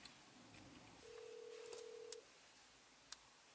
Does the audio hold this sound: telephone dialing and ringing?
yes